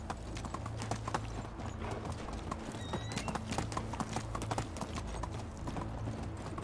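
Horse hooves clip-clopping at a steady trot in the medieval farming game Medieval Dynasty, dense rhythmic thuds over a low rumble, close and continuous with no talk.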